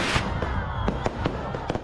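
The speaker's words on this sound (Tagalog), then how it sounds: "Nagliwanag ang kalangitan sa isinagawang Grand Fireworks Display Competition nitong Sabado sa Oroqueta City sa Misamis Occidental." A fireworks display at a grand competition in Oroquieta City, Misamis Occidental, gives a quick string of sharp bangs and crackles over a continuous rumbling din, loud and unbroken.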